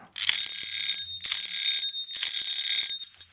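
A bright electronic bell rings three times in a row, each ring sustained about a second with short gaps between, loud and close, no voices.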